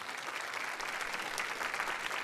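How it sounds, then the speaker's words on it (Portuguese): A short burst of dense applause from a church congregation at a Catholic Charismatic Renewal gathering, steady clapping heard on its own without talk. "Uma salva de palmas para vocês."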